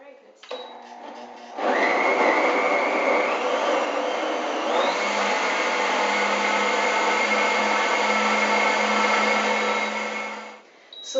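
An Omniblend V blender runs a 60-second cycle on a green smoothie, a loud steady whirring roar that rises in pitch as it speeds up, holds for several seconds, then winds down near the end.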